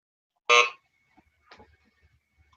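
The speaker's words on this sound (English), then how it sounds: "I heard a buzzer." A single short electronic quiz buzzer sounds sharply, followed by near silence with faint rustles and a thin lingering tone.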